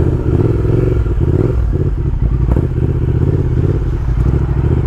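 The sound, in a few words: 2020 Triumph Speed Twin motorcycle with Vance and Hines exhaust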